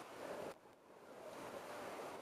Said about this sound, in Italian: Mare oggi mosso per il vento, ma anche ieri c'era un bel vento.